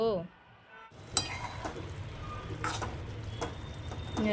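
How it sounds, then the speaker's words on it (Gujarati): Ridge gourd curry tempering in a pan gives a steady sizzle after a brief quiet start, with a sharp clink of utensils and a voice speaking faintly at the edges. "તુરિયાનું શાક વઘારી દીધું છે."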